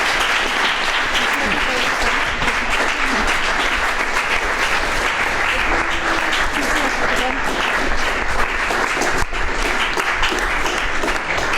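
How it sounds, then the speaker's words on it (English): A lecture audience applauds steadily and loudly for the full stretch, a dense wash of clapping with faint voices mixed underneath. "So, give some applause while they receive their reward."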